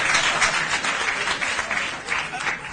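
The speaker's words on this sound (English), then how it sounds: "They are clapping." Audience applause at a meeting, a continuous patter of many hands clapping for a few seconds, fairly loud and fading slightly near the end.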